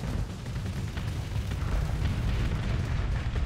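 Heavy cannon fire and explosions from the space combat game Starsector, a continuous dense rumble of booming blasts with no clear gaps, loud and alone without speech.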